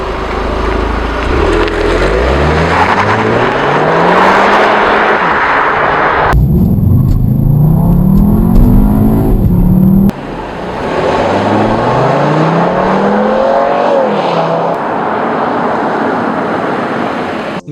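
Volkswagen Beetle TDI diesel engine in the Need for Speed Edge racing game, a loud continuous engine drone with rising and falling pitch as it revs through gears, with a brief shift in tone midway and no talk.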